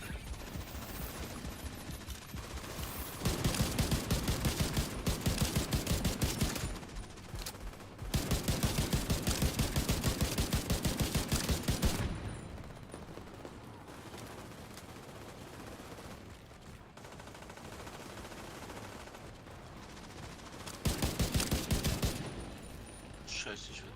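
Bursts of rapid automatic gunfire from the video game The Division 2 come in loud stretches separated by quieter gaps, with speech-like sounds mixed into the firefight.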